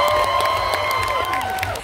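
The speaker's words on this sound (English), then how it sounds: "one more big round of applause for all of our novice entrants" A convention audience at a cosplay competition's novice division applauds and cheers, a dense wash of clapping and crowd noise with a voice over a loudspeaker carrying through it.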